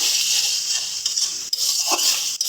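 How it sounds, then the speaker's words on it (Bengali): Sugar being stirred into a simmering banana flower kofta curry in a pan, with a loud, steady hiss of bubbling and a few soft scrapes and knocks from the spoon, and no voices. "চিনিটা দিয়ে ভালো করে মিশিয়ে নেব"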